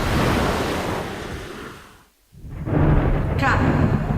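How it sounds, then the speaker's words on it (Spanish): Ocean waves and wind roar during a storm at sea off the coast of Brazil, a loud rushing wash that briefly drops away before surging back in strongly. "al oír el ruido de las olas"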